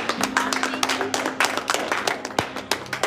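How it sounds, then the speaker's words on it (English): A small group of people claps in uneven bursts at close range, sharp hand claps mixed with voices talking and a faint steady hum underneath. "Everybody clap it up for Rhonda."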